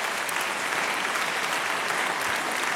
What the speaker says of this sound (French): offrez à cette jeune chanteuse les applaudissements qu'elle mérite